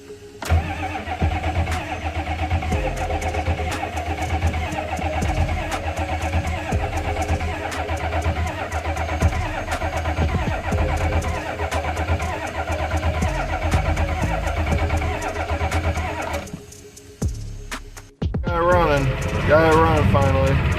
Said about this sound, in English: It's been so long since this truck actually fired up